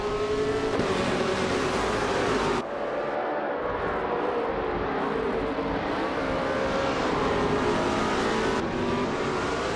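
Race cars in a racing video game, led by a 1966 McLaren M10A at the Estoril Retro track, roaring steadily with engine drone shifting pitch as cars pass, loud and continuous without talk.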